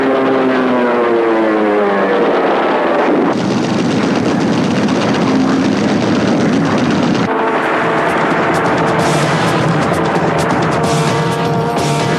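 Hellcat and Corsair propeller fighters drone loudly and steadily, their piston engines rising and shifting in pitch as the aircraft pass, with a dense continuous roar and no voices.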